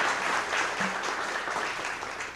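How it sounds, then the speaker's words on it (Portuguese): Audience clapping at a plenary session of an intellectual property congress in Brazil, honouring the event organisers: an even wash of many hands, moderately loud and slightly distant, sustained throughout before tapering at the end. "I please ask applauses."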